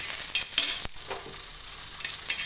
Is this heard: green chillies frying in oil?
yes